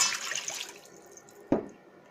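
Water is poured into a glass for dumpling dough, a short splashing trickle that fades out, followed by a single sharp clink or drip, close and alone.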